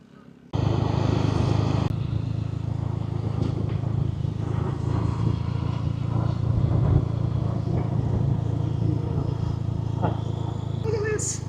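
Motorbike riding through rural countryside outside Yogyakarta, Indonesia, a steady engine drone and wind rumble that starts abruptly and holds loud and close throughout, with voices talking over it.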